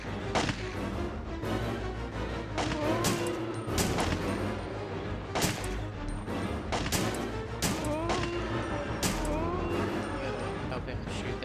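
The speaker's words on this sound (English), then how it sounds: "you have to make sure you actually help him shoot that zombie down" Scattered sharp shots ring out in Resident Evil 3 as a zombie is gunned down, several loud cracks spaced irregularly over a busy game soundscape with voices talking throughout.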